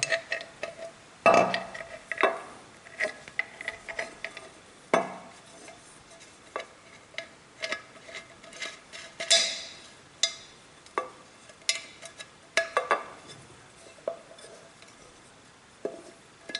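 Small metal parts of a Honda Impressa/Grand underbone motorcycle clutch adjuster being fitted and turned by hand, roller seat and locking piece clicking into place: sparse, irregular light clicks, taps and clinks, close and fairly quiet with gaps between them.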